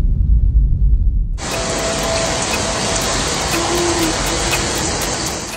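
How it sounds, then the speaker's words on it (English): A powerful downpour with hail over the city of Tarija, Bolivia, a dense, steady roar of rain and hail that starts abruptly after a low rumbling lead-in and stays loud throughout. "a powerful downpour with hail hit the city of Tarija and nearby areas, causing enormous damage."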